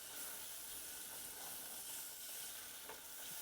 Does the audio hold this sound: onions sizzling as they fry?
yes